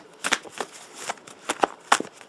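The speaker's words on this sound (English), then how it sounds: "So let's shuffle that up some." Someone shuffles a large deck of artifact cards for a board game. It comes as several quick, crisp riffling bursts close up, separated by short pauses.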